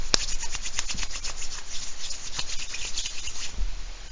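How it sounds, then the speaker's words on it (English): Hands rubbing together briskly to peel off sticky glue after paper sculpting, a close, continuous dry scuffing with steady rhythmic strokes for a few seconds. "I just rubbed my hands together and it got all of the sticky glue off of my hands."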